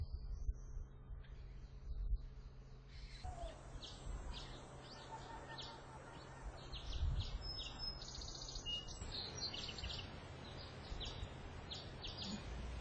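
Birds on Hongdo island off Korea give faint, scattered chirps and short high calls over a quiet outdoor background, more active in the second half.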